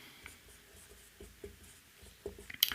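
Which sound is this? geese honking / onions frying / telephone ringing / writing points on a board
writing points on a board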